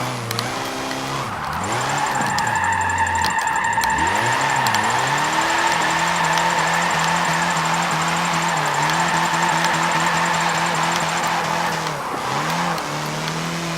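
A 1968 Meyers Manx drift-tuned with rear-wheel drive, driven in Forza 7: a loud, steady engine drone with rising and falling revs and squealing tyres that runs continuously, close up, with no talking.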